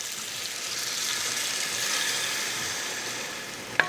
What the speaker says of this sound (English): Raise the temperature at high and put some wine and let the pan